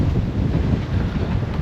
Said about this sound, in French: Allez, 20 nœuds de vent.